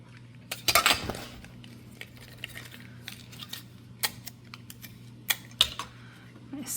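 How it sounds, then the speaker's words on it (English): Scissors snip off a spare strip of copper tape on a paper circuit card, a cluster of small crisp cuts near the start followed by scattered light clicks and handling taps close by over a low steady hum. "I have a little bit of an extra piece of tape there, so I'll cut that off"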